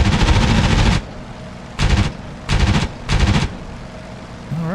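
F4U Corsair machine guns strafe a truck in the DCS World combat flight game: one long roaring burst of rapid fire, then three shorter bursts separated by brief gaps, loud and close.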